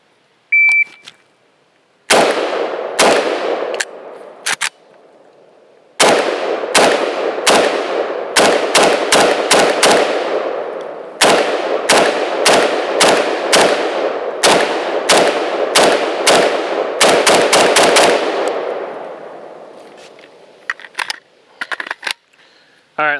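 An IWI Galil Ace rifle in 5.45x39 fires on a range in a drill from high ready, five rounds per target; loud, close, sharp shots come in quick strings separated by short pauses, about two dozen in all.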